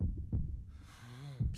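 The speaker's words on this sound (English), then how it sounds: "It is a heartbeat?" Heartbeat effect from an anime episode: a few low, soft thumps with a humming tone rising under them, fairly quiet and close, brief and without talk.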